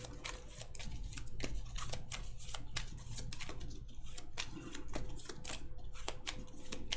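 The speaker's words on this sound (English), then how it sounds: "I'm going to shuffle this up." A deck of Marvel Champions cards being shuffled by hand, a dense run of quick papery riffles and snaps repeating steadily throughout over a low background hum, with no talking.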